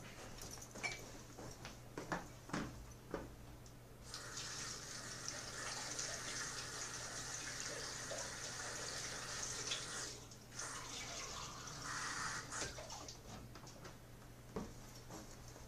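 Tap water runs to fill a cup indoors, a steady hiss of flow lasting several seconds with a brief break, amid faint clicks and handling knocks and a low background hum.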